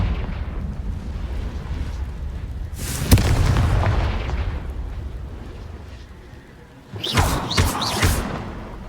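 Confringo blast spell in Hogwarts Legacy, a sharp explosive crack followed by a rumbling boom, then later a second burst of crackling blasts over a low ambient game background.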